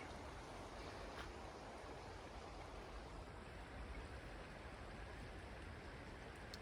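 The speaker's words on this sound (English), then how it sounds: "Lots of little streams in the Rocky Mountains." A small mountain stream in the Rocky Mountains flows with a steady, even rush of water that holds constant throughout, close and moderately quiet with no voices.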